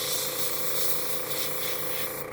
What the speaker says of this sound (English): I'm not moving my airbrush, just moving it from side to side.